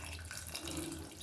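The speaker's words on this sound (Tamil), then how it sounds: "கொஞ்சமாக தண்ணி ஊற்றிக்கோங்க." Water poured into a pot of bitter gourd kulambu, a steady splashing gush heard close and continuous for a moment, with no speech over it.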